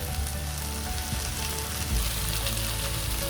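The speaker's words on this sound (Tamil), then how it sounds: "இப்போ அப்படியே வச்சுட்டு கொஞ்சம் ஸ்லோ ஹீட்டில் கொஞ்சம் ட்ரை ஆகிற மாதிரி பண்ணுறோம்" Boiled eggs fry in masala over slow heat, giving a steady, close sizzle and crackle that runs unbroken with no one speaking.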